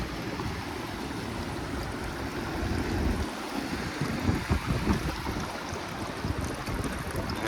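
Water flows through a rock channel at a nature glen, swirling like a whirlpool, a continuous rushing gurgle close to the microphone with louder surges midway and light wind noise.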